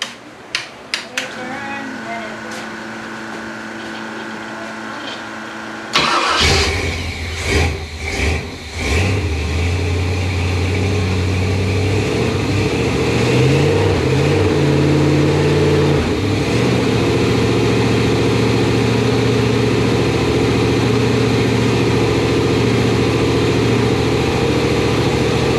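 A 454 engine in a Bailey Built Front Runner kit car cranks and fires, revs a few times, then settles into a loud, steady, rumbling idle heard close up.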